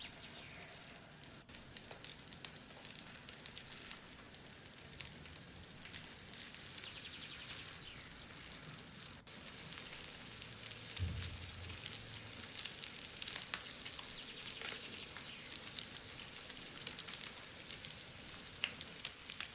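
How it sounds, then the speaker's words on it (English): Salmon fillets frying in melted butter in a pan give a soft, steady sizzle with faint crackles and spits, continuous and fairly quiet, close by with no talking. "You can hear the sizzle"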